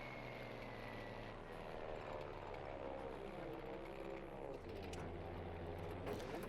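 Messerschmitt Bf 109 fighter engine in the video game Battlefield V, a steady droning propeller roar holding at an even level throughout, with faint background game sounds and no talk.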